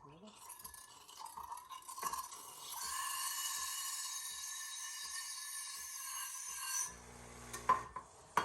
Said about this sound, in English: clean the steam wand